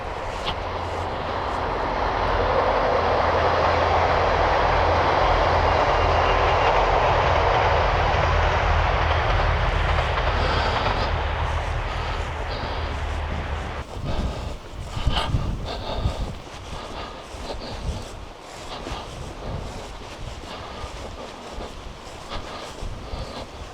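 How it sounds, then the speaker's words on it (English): A loud, steady rumble builds and holds for several seconds, then fades into clattering, uneven rolling noise as the train moves off. "Another train going to Liverpool."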